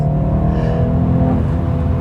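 BMW 430i coupe, 2021 model, with its engine pulled hard under full throttle: a steady, dense engine drone that holds loud and close for two seconds with no voices over it.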